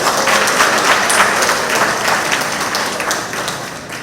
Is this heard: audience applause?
yes